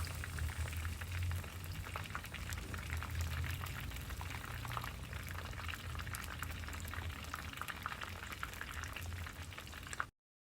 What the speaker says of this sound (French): Je les retire, je les égoutte.